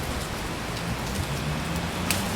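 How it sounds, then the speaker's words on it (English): Steady rain pours outside a bus stop, a dense, even hiss of drops close by with no voices. "Of course, unfortunately, it's raining."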